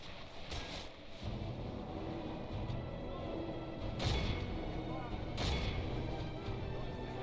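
Artillery fire booms in a strategy war game set in a campaign, with several dull, low thuds and rumbling blasts spaced across the stretch under someone talking.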